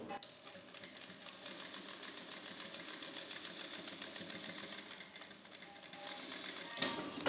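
A sewing machine stitches a dress sleeve joint in a steady, fast mechanical whir with a rapid needle rhythm that runs continuously and fairly quietly, ending with a small clunk, and nobody speaks.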